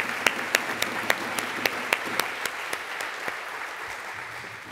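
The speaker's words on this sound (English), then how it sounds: "Let's give them the final round of applause here." Scattered applause closes a conference's final session, sharp individual claps in an uneven rhythm standing out from a softer patter, moderately faint and tapering over a few seconds.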